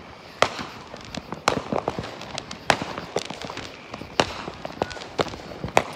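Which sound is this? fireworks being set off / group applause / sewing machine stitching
fireworks being set off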